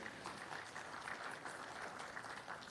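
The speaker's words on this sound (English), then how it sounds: "Anne Juko, round of applause, ladies and gentlemen." Conference audience applauds as a bank chief executive is welcomed to the stage at a telecom IPO event, a steady wash of clapping heard faint and distant throughout.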